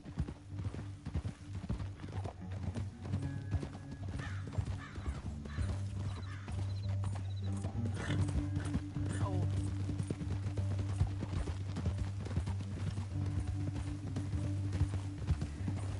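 Horse hooves clip-clopping in the Western video game Red Dead Redemption 2, a continuous rhythmic trot over a low rumbling score and ambient sounds, with characters talking over it.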